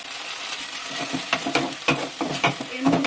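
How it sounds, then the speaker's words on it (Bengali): Bitter gourd peels are frying in a pan with chili and garlic, giving a soft steady sizzle broken by several sharp scraping strokes of a spatula stirring the pieces, close and moderately quiet. "লঙ্কা রসুন এগুলো একটু ভাজা ভাজা হয়ে এলে এর মধ্যে আমরা দিয়ে দেব করলার যে ছালটা আমরা রেখে দিয়েছিলাম সেটাকে"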